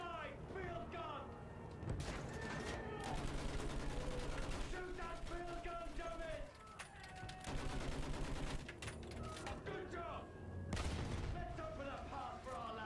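Battlefield 1 combat with a field gun: heavy booming shots and bursts of rapid gunfire come in clusters, with mechanical clatter between them, loud and close.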